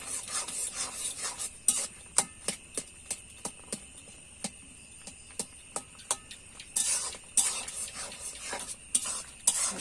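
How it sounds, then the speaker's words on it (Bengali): A spoon mashes and stirs cooked, softened taro flowers in a pot for a sour village dish, giving quick scraping clicks in a steady rhythm, close and fairly quiet, with a few longer rubbing scrapes and no talk. "ভালো করে গুটিয়ে গুটিয়ে নেব, ফুলটা যাতে গলে যায়"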